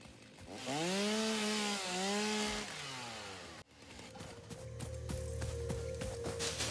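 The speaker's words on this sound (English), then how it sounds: "Let's swap in our chainsaw." A video game chainsaw in Satisfactory revs up with a rising, wavering whine, then settles into a buzzing, rattling cut as it chews through material, loud and close with no talk.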